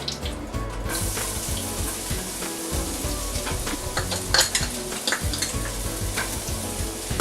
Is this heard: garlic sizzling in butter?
yes